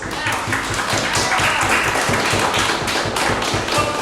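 Applause breaks out in the audience at a Queens Community Board 7 meeting, a dense run of rapid claps sustained and close for the whole stretch, with scattered voices faintly beneath it.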